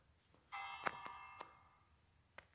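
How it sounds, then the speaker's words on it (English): A village bell rings out during a raid in Minecraft Bedrock Edition, a bright metallic chime with a few struck clangs that ring and fade, fairly quiet over a soft background. "Oh, the bell rang."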